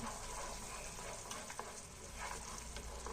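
Sugar syrup is stirred in a pan on the stove while making Mysore Pak, giving a faint, steady bubbling hiss with soft scraping of the spoon throughout.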